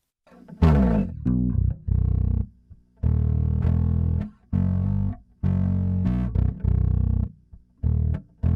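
Distorted electric bass playing a riff of sustained notes separated by short gaps, gritty and loud, with no voices.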